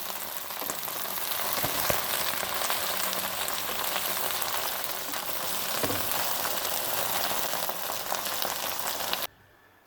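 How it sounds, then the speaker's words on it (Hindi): Chopped okra (bhindi) frying in a pan, a dense, steady sizzle and crackle close to the ear that runs unbroken and then cuts off abruptly near the end. "हमारी भिंडियाँ फ्राई हो गई हैं।"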